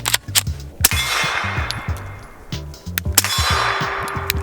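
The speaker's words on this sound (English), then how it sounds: "shooting 115 grain, this is not subsonic ammo, so this is gonna be a little bit louder." CZ P-07 Tactical pistol firing 115 grain supersonic ammo, a rapid string of sharp, loud reports close by, several shots in quick bursts with short pauses between.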